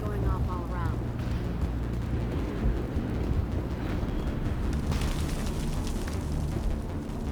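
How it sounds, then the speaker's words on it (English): Heavy gunfire rages all around in the sci-fi video game Mass Effect, a dense, loud, unbroken wall of shots and rumbling blasts that fills the whole stretch without pause. "How is a woman supposed to think with guns going off all around?"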